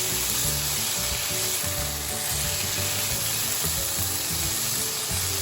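Nate shaak greens frying in oil with garlic and onion, a steady dense sizzle that holds loud and close throughout, with faint stirring scrapes underneath.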